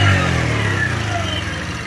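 A Bajaj CT 100 motorcycle with about 25,000 km on it runs close by, its engine putting out a steady low drone that eases off slightly over two seconds.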